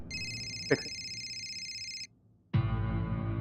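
A telephone rings loud and close in a steady electronic trill, then cuts off, with a brief sharp knock during the ring and a louder burst of noise after a short pause.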